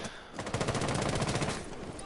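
Rapid gunfire in the tactical shooter Rainbow Six Siege, a quick close burst of shots lasting about a second amid game ambience.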